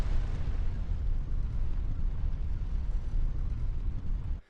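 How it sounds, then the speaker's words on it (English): The giant elevator from the start of Elden Ring rises with a heavy, continuous low rumble that stays loud and grinding throughout, then cuts off abruptly at the end. "It's actually the elevator that you go up at the start of the game."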